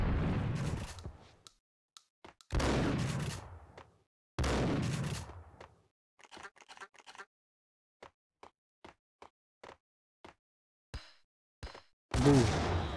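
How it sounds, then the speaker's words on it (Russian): Several loud booming blasts from the video game Max Payne, each decaying into rumble, mixed with sharp crackling pops and clicks; explosions repeat with silent gaps between them. "По-моему, он сам себя подорвал."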